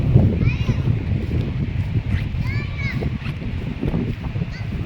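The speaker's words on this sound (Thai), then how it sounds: "ลมแรงนะคะ" Strong wind gusts outdoors at a campsite with a tent, a steady low roaring rumble buffeting the microphone throughout, with faint voices now and then.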